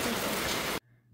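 Steady rain pours down in a loud, dense hiss, then cuts off abruptly to near silence with a faint low hum.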